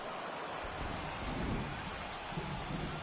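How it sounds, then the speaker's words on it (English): Steady rain falling on a baseball field in MLB The Show 24, a constant broadband hiss of moderate loudness with faint low rumbles underneath. "the field's not going to be able to hold up if the rain gets any worse than this"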